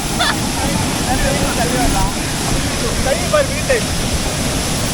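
Heavy, steady roar of rushing falling water at Serendah waterfall, Malaysia, fills everything, with a voice talking faintly beneath it.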